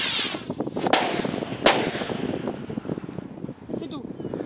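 A firework rocket whooshes up and bangs in a couple of sharp cracks outdoors at close range, with wind noise and people talking over it.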